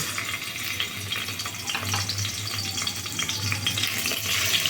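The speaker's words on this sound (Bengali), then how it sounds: "কড়াইতে আমি তেল গরম করে নিয়েছি এবার একে একে চিংড়ি মাছগুলো কড়াইতে ছেড়ে দেব" Prawns hit hot oil in a wok, a steady close crackling sizzle with a low hum beneath, loud and continuous without talk.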